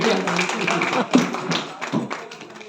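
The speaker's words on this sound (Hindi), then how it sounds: "थोड़ी ताली बजा दीजिए" Audience clapping along in rhythm at a Hindi devotional singing gathering, steady taps with a faint voice partly over them.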